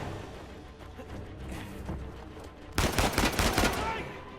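Gunfire in the Uncharted 4: A Thief's End video game. Muffled game ambience gives way to a loud, rapid burst of automatic fire near the end.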